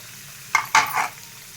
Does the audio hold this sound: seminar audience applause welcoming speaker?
no